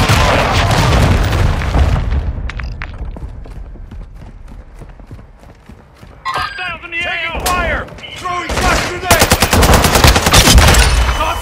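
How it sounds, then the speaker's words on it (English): In Call of Duty Modern Warfare 2, a cruise missile strike lands amid gunfire: heavy booms and rattling shots, then a quieter stretch with mechanical clatter before bursts of explosions and fire build up again, with game voices in between. "Hostiles launched a cruise missile."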